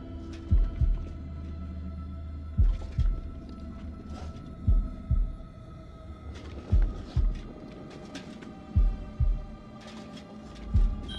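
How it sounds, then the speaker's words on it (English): Heartbeat sound effect in the horror video game The Dark Pictures: deep, muffled double thumps repeating at a steady, slightly irregular pace over a low droning hum, fairly loud and with no talking. "Heartbeats."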